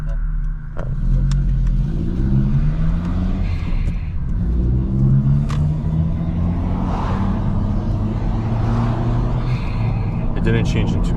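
A 2023 Honda Civic Si engine drones and rises in pitch as it revs while driving, a steady close rumble that climbs through the gears, with someone talking over it.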